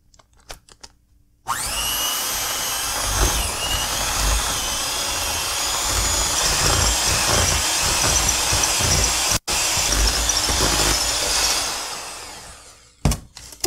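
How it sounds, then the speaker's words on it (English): An electric mixer beats butter and sugar for cupcakes, with a steady close whirring motor hum that runs continuously for about twelve seconds. It stops briefly once, then cuts off, with light clicks before and after. "we are going to beat butter and sugar together"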